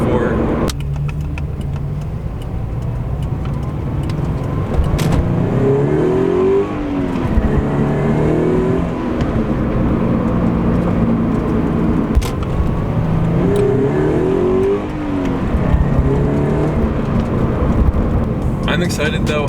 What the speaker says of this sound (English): It has that Subaru rumble that we were hoping for.